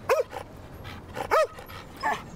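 A dog barks three times in separate, sharp bursts at close range, with short pauses between each bark and no talk over it.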